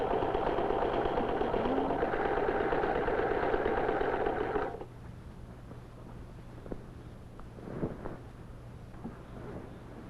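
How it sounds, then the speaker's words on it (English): A sewing machine whirs steadily for about five seconds, then stops, leaving a quiet room with a few soft knocks and taps. "just about all the women here have a sewing machine like Amelia's"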